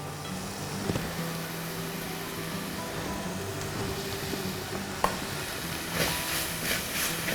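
Onions and green chillies fry with a steady low sizzle in a pan, the spoon scraping and stirring in soft intermittent knocks while a gentle hiss continues throughout.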